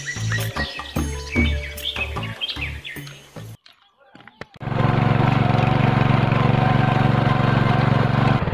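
A small tractor ploughing a hillside field runs as a loud, steady engine drone for the last four seconds. The first half has busy birdsong and mixed sounds, then a brief quiet gap before the engine comes in.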